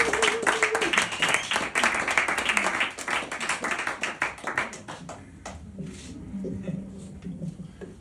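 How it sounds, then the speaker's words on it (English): A comedy-club audience claps for a comedian arriving on stage, a dense burst of handclaps that thins and fades over several seconds, with a voice audible beneath the tail end. "can you please give a huge round of applause"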